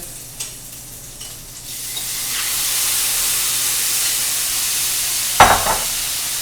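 Vegetables roasting and sizzling in a hot pan while making coq au vin, a steady frying hiss with a brief clatter of stirring near the end, no voices.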